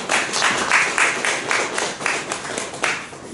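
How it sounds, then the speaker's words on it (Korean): A church congregation at a Sunday service on New Year's Day 2023 claps in encouragement for a soldier home on leave, a brisk round of applause in rolling bursts that swell and ease. "여러분 힘차게 격려 박수 한번 보내주세요"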